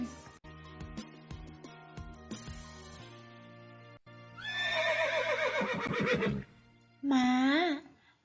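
A horse neighs twice: a long, loud, quavering whinny, then a shorter, sharper one, heard over soft background music with steady tones.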